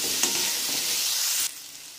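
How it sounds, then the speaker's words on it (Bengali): Potatoes with turmeric and salt frying in oil in a wok give a loud, steady sizzle with faint stirring scrapes, which drops off sharply near the end. "আমার আলুটা ভাজা হয়ে গেছে,"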